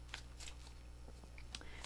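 Tarot cards are shuffled by hand in a few quick, crisp riffling bursts over a quiet background hum, close and faint.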